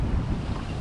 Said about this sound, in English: Feels like the wind picked up a knot or two in the middle of all this.